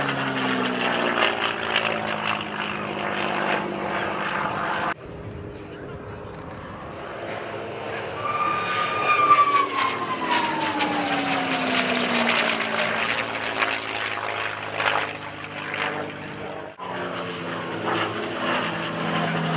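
A P-51 Mustang propeller fighter drones steadily, with a rising whistling tone from the engine and airscrew heard near the middle as the plane passes. Voices talk over it at times.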